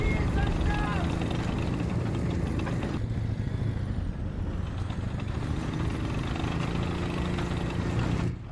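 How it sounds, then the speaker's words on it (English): A PTZ-89 armoured vehicle's engine rumbling in a canyon during a tank battle game, a steady, loud, continuous drone with a slight dip midway, sustained for the whole stretch. "The vehicle I've been hearing in the canyon forever is actually a PTZ-89"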